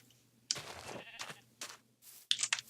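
Sheep in the Minecraft video game give several short, quiet bleats, spaced apart with brief pauses between them.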